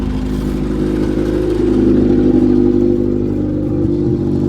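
Carbureted engine of a Toyota Wolverine idling a little high, a steady close rumble with a slight rise in pitch partway through, no talking.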